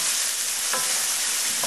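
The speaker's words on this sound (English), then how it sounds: "Stir this, turn this down to medium," Chopped mushrooms and onion stirred in a pan over medium heat, a steady broad sizzle throughout with a couple of brief spoon scrapes, close and continuous with no talking.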